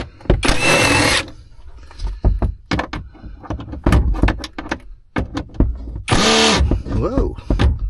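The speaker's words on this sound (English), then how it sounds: "Bauer impact driver." Bauer impact driver loosening truck bolts on a Freightliner Cascadia, two loud sustained rattling bursts at the start and near the end, with someone talking and clanking handling noises in between.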